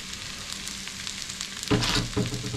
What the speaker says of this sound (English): Stir that around.